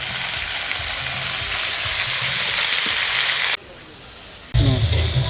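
A pan of spice masala with tomato and potato sizzles hard, cooking for a broccoli and fish curry. The frying hiss dips briefly, then surges louder with a heavy low rush as the broccoli goes in.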